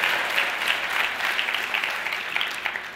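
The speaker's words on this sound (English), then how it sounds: "I ain't gonna stop you from clapping," Audience clapping during a motivational speaker's talk, a fairly even patter of many hands at moderate level that holds steady and thins slightly toward the end.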